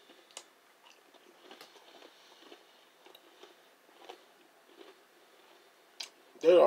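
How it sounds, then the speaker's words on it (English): Someone chews Keebler cinnamon graham Bug Bites cookies up close, with faint, irregular crunches and clicks spread across several seconds, followed by a louder burst at the very end. "There's an overall nice crunch."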